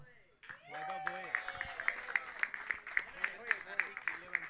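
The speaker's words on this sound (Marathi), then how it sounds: "जोरदार टाळ्या झाल्या पाहिजेत वैभवसाठी" Crowd applause for Vaibhav, the best fielder award winner at a Divine Premier League Season 4 cricket prize ceremony: steady clapping from many hands after a brief pause, with louder individual claps standing out over background voices.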